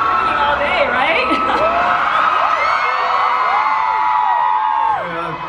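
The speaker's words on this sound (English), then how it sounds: "I feel like they could just be screaming all day, right?" A large fan crowd screams, whoops and cheers continuously at a KCON stage meet-and-greet in LA, loud and dense with overlapping high-pitched shrieks, easing slightly at the end.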